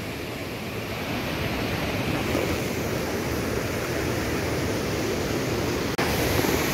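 River water rushes steadily at a fishing spot, a loud, even broadband roar that stays close and unbroken, with a short click near the end.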